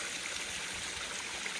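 A mountain stream on a hike in the Adirondack High Peaks flows steadily as a soft, continuous trickling wash, heard alone at low level while water is being filtered.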